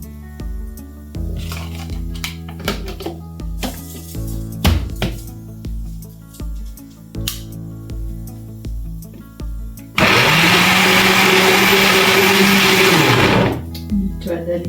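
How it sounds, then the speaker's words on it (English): An electric kitchen blender starts up loud, blending ginger and roughly chopped tomatoes with a little water for a few seconds. Before it runs there are clattering, knocking kitchen sounds. "I have ginger, and I'm going to blend them."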